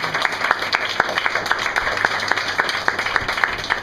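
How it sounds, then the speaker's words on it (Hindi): Rhythmic handclapping from a church congregation during a Sunday prayer service, with sharp claps falling on a steady beat over a constant din of voices and room noise, fairly loud throughout. "हम लोग जोर से ताली पर प्रार्थना करेंगे।"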